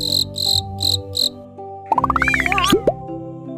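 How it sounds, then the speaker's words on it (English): Four loud, clear cricket chirps repeat in an even rhythm, then give way to a bright rising run of plucked, bubbly cartoon tones and a closing pop. "Cricket."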